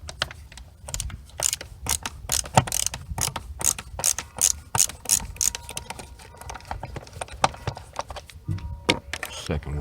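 A ratchet clicks rapidly and steadily while loosening Phillips head screws on a 2016 Chevy Cruze 1.4L turbo air filter housing, crisp close ticking running in long bursts with a brief pause near the end.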